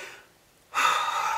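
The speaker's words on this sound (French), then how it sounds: "c'est pour ça que je suis essoufflée" A woman gasps and breathes heavily, out of breath after sitting on the floor, a quiet exhale followed by a loud, rushing breath close to the microphone.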